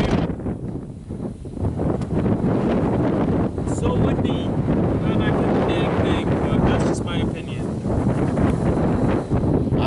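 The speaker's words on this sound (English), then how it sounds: "It is windy, but it feels good." Strong wind gusts buffet the microphone beside the water during a catfish fishing outing, making a loud continuous rushing roar with a few brief dips, while a person speaks intermittently over it.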